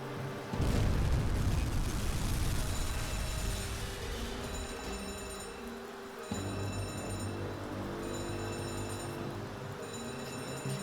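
A torpedo striking a C3 cargo ship in the submarine game UBOAT, a heavy low booming explosion that swells at once and rolls on as a long, rumbling wash under steady game ambience.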